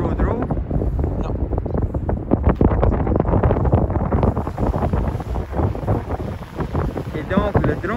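Wind blows outdoors across a construction site and buffets the microphone with a loud, continuous rumbling roar. Voices can be heard underneath.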